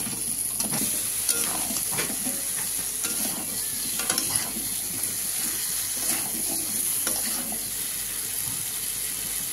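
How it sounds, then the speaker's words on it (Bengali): Raw pumpkin and potato pieces tipped into a frying prawn curry, producing continuous close sizzling with repeated stirring and scraping sounds throughout, no talk. "দিচ্ছি কুমড়ো আলুটা"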